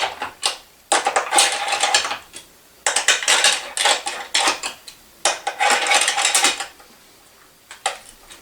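A mounting tower is bolted down on a racket stringing machine: close, loud bursts of rapid metallic ratcheting and clattering, separated by short pauses.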